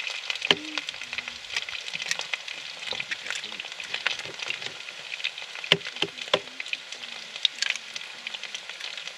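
A Spanish potato tortilla cooks in a frying pan in a van kitchen with a steady, close sizzle and spatter, broken by occasional sharper crackles and pops, with no voices.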